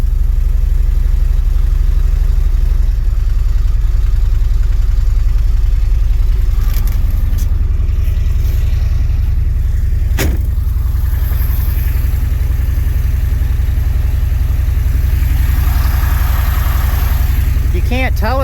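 An International truck engine idles steadily after a cold start in snowy conditions, a constant low rumble running throughout with a brief sharp knock partway through and voices talking over it.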